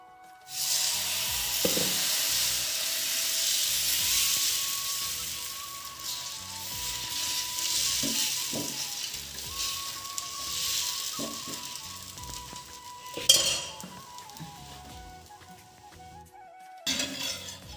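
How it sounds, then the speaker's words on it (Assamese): A homemade dosa sizzles on a hot pan with a bright, steady hiss, giving off smoke, while faint clinks and scrapes of a utensil come and go. A sharper clatter sounds near the end, and no one speaks. "ইয়া পুৰা গৰম গৰম dosa বনাই আছো"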